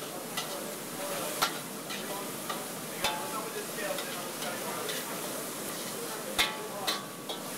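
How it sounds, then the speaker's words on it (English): Julienned raw broccoli stems stir-fry in a pan alongside previously cooked florets, a steady sizzle broken by sharp clicks and taps of utensils against the pan, faint background murmur present. "Now we add our broccoli stem julienne."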